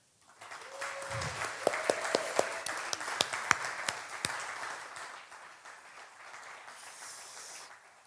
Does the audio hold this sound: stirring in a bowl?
no